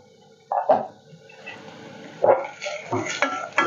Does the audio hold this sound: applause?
no